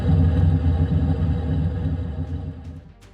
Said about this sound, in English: here's just basic starting the engine and listening to it